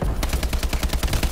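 Rapid automatic gunfire in the Call of Duty Advanced Warfare video game, a loud continuous burst of evenly spaced shots.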